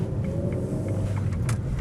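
A Ford Focus 1.8 LX five-door on alloy wheels with low-profile tyres drives along, giving a steady, fairly quiet low road rumble and tyre roar with no talking.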